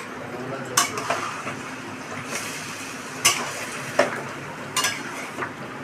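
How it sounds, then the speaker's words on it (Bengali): Meat stirred in a pot for home-style biryani, a spoon scraping and clinking against the metal in a few sharp bursts over a soft continuous sizzle, close by with no talk. "মাংসটা নাড়ছে, নেড়ে চেড়ে ঢাকা দিয়ে দেবে।"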